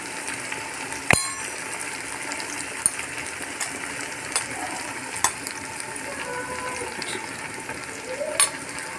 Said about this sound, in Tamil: இஞ்சி பூண்டு நல்லா பச்சை வாசனை போகிற அளவுக்கு பொரித்து எடுத்துக்கோங்க